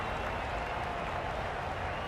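Cricket crowd in the video game Cricket 22 during a T20 match between India and the West Indies, cheering and applauding in a dense, steady roar of claps and voices.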